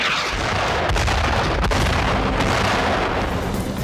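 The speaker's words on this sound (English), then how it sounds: "Cole ordered a smoke and artillery barrage" A smoke and artillery barrage in the World War II game Brothers in Arms: Road to Hill 30, a loud continuous rumble of heavy blasts with a couple of sharper cracks near the middle.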